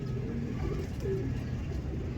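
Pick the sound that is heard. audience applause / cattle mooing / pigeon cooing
pigeon cooing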